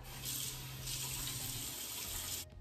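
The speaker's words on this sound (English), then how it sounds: "I'm gonna add some water." Tap water running into a bathroom sink during hand washing with facial wash, a steady close hiss that keeps going until it is shut off near the end.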